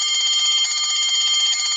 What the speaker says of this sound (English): On pressing the switch, we hear the bell ringing